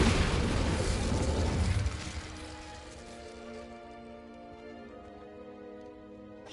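An Incendio fire spell is cast in Hogwarts Legacy: a loud, roaring fiery burst for about two seconds that drops to a softer, lingering tonal ring as it fades.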